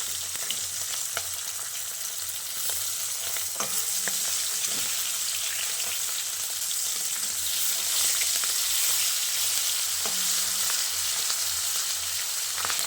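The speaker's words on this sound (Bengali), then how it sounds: "তো মাছের দু সাইড ভালো করে উল্টে পাল্টে ভেজে নিয়েছি।" Foli fish pieces fry in oil, turned over to cook both sides, giving a continuous close sizzle with occasional light clinks and scrapes of turning; no voices.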